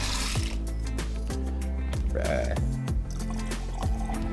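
Bourbon poured into a container of molecular sieves, with splashing and gurgling and small bubbling pops mixed with scattered clicks and knocks, fairly close.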